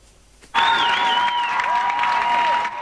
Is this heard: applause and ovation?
yes